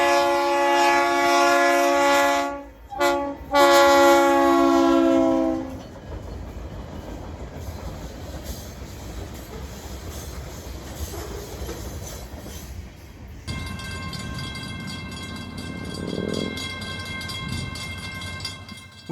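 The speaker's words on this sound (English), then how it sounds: "GP38 number 501 was in charge of the short train today" A GP38 diesel locomotive hauls a short freight train past sugar fields, opening with a loud, sustained horn blast and a brief break, then a steady rumble of passing rail cars, with a second, fainter horn or tone late on.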